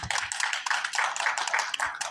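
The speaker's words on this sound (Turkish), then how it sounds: "Alkışlarınızla çağırıyorum beyefendi." Guests clap briskly at a Turkish wedding ceremony, a close, lively patter of individual handclaps that carries on without a break for a couple of seconds.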